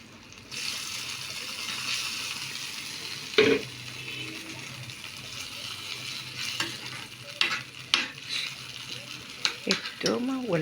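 Garlic frying in a pan for a taro leaf stew makes a continuous close sizzle, broken by stirring scrapes and clinks, while a voice speaks briefly now and then.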